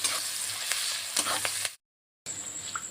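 Onion frying in a pan with bay leaf, panch phoron, garlic and cardamom, a steady close sizzle with a few scraping stirs, cut off by a half-second of silence before the sizzle resumes.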